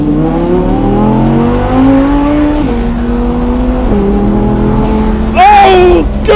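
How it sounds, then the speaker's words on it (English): A road car accelerates hard with a loud engine climbing through the gears in rising sweeps, then a sharp high-pitched surge near the end, with voice faintly under it. "Never, ever have I experienced such savage acceleration in a road car"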